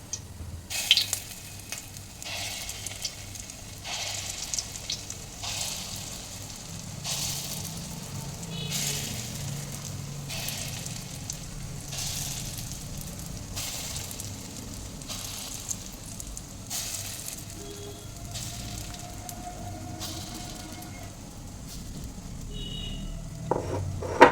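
Bora fritters fry in hot oil in a wok, a soft, constant bubbling sizzle with regular bursts of hiss and occasional clinks, fairly quiet and with no voices.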